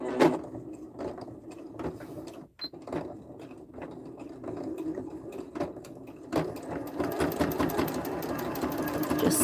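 A sewing machine stitches a French seam in blue thread for a gift bag, with close, rapid mechanical chattering in bursts, a short pause, then a faster, louder run of stitching.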